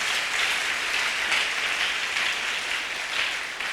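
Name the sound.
church congregation applauding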